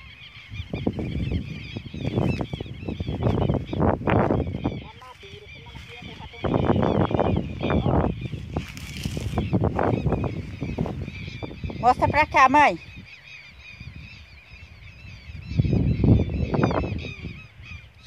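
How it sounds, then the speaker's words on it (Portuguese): Birds honk and call continuously in the background outdoors while people talk nearby; the calls rise briefly louder between voices. "você fica aqui, ó, só ouvindo os pássaros"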